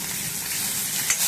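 Onions sizzle and crackle steadily in a hot pan while making tomato pappu (tomato dal), a continuous close frying hiss.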